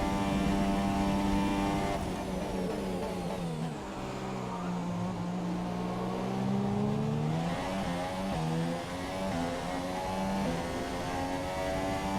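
A Formula 1 car engine in the F1 2017 racing game howls through a qualifying lap, its pitch sweeping up and down through gear changes as the car brakes and accelerates, loud and continuous with no talking.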